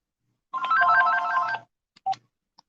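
Outgoing phone call ringing tone, a warbling electronic ring lasting about a second, then a short beep and a faint click, heard clearly on its own without talking.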